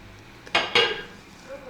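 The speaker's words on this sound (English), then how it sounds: "Some cutlery, some glasses. And here we got some plates." Cutlery, glasses and plates handled in the kitchen of a budget Airbnb apartment in Agadir, Morocco: two sharp, close clinks in quick succession, followed by quieter rattling against a soft room background.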